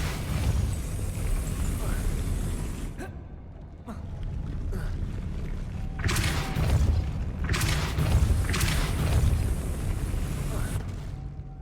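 The Depulso spell cast in the video game Hogwarts Legacy, booming whooshing blasts bursting over a continuous rumbling game ambience, loud and full, with several repeated impacts.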